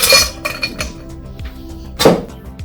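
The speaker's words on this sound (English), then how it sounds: "Grab 1 scoop of ice, fill it into your mixing glass." A scoop of ice drops into a chilled mixing glass, giving a loud clattering clink followed by scattered smaller rattles and a second sharp clink, close and clear with no talk.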